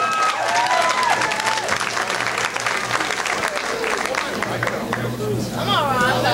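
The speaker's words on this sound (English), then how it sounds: "Y'all put y'all hands together" Comedy club audience at a comedy house in Columbia clapping and cheering for an incoming comedian, a steady wash of applause and crowd chatter throughout.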